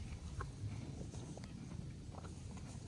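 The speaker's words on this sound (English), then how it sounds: "There are horses at the property next door." Horses moving on the property next door give off faint, scattered hoof clip-clops and footfalls over a low, steady rumble of outdoor background noise, with no talking.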